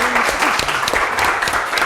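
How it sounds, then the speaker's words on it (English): Warm audience applause for a performance collective, a dense continuous wash of many hands clapping, loud and sustained, with a few voices faintly underneath. "So first of all, again, another warm applause for Omsk Social Club."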